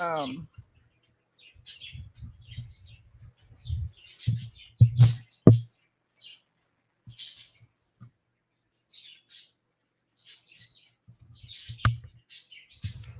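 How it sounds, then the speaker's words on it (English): Birds chirping outdoors in scattered bursts of short tweets and calls, some close and sharp, separated by quiet gaps, with faint low rumbles between. "I'm trying to shut out the birds"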